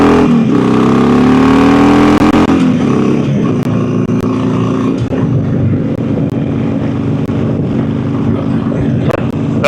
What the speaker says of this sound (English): That was a guy on a Honda Ruckus.